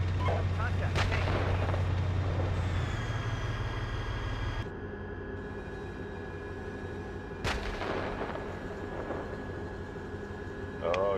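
Tank cannon fire in a video game, with long-range shots producing heavy booms amid a steady engine drone and mechanical hum, plus a sharp report partway through and faint voices on radio chatter.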